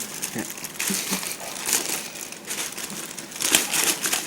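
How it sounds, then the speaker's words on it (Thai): Thick, tough plastic sheeting, the kind used to seal a house against flooding, crinkles and rustles in uneven bursts as it is handled close by, with a few louder crackles. "เป็นแบบถุงพลาสติกแบบหนา แล้วก็ความเหนียวก็จะ เหนียวพอสมควร"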